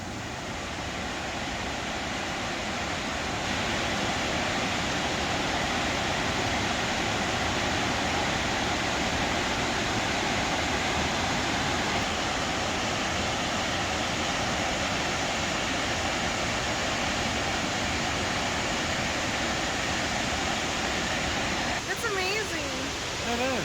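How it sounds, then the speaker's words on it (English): Rushing water pours from an underground cave at a Tennessee waterfall, a loud, steady, unbroken roar that fills the whole stretch without letup. "It's loud and it roars and it's a very rushing water."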